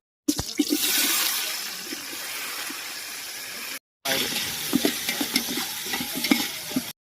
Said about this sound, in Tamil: வெங்காயம் நல்லா தீஞ்சிக்கிட்டோம்